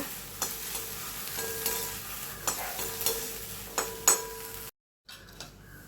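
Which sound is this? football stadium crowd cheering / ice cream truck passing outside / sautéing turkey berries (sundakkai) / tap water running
sautéing turkey berries (sundakkai)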